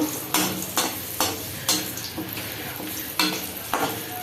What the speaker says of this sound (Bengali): বড়িটা ভেজে তুলে নেব